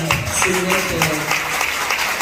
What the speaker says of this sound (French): on va les applaudir déjà